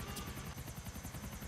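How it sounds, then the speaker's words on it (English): Several helicopters hover directly overhead in the video game GTA IV, their rotors producing a loud, dense, steady chopping thrum with no voices. "all the helicopters are on top of me right now"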